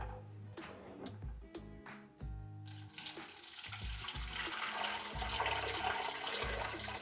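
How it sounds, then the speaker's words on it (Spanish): Two litres of water are poured into a pressure cooker holding chicken breast, onion and garlic, starting as splashy gulps and settling into a steady rushing pour that grows fuller, close by. "Agregamos 2 litros de agua completo."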